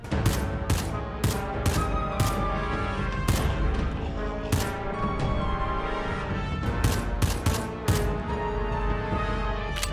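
Rapid bursts of advanced rifle fire in a Minecraft apocalyptic parasite survival game, loud sharp gunshots in quick repeated volleys mixed with other booming shots across the whole stretch, with no talking.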